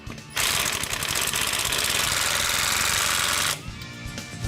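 A lug nut being run onto a wheel with a pneumatic impact wrench, one loud continuous rattling burst lasting about three seconds, followed by quieter shop background.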